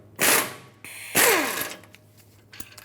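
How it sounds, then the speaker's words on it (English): A ratchet wrench with a 21mm socket loosens the caliper bracket bolts on the rear axle of a 2003-2009 Dodge Ram 2500, giving two loud bursts of rapid clicking with a few fainter clicks after. "With a 21mm socket, remove the 2 bolts that hold the caliper and bracket assembly onto the rear axle"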